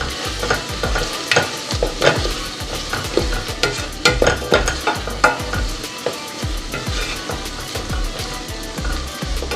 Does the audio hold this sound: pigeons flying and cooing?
no